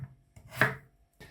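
A kitchen knife chops ingredients for Cornish pasties on a board, a few close, sharp cuts with one loud central strike and quieter taps around it, no talking.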